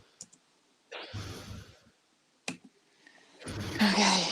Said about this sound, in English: Okay, I'll stop typing.